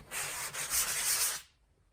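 Close, steady sanding of a surface being readied for primer, a dense gritty rubbing that runs continuously for about a second and a half and then stops abruptly, leaving near silence.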